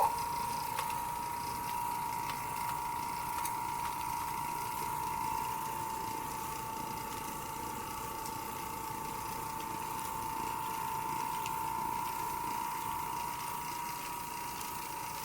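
A carpet cleaning machine with a pre-sprayed standard Oric pad runs in a steady, continuous mechanical whir with a strong sustained tone, close and even throughout without talk.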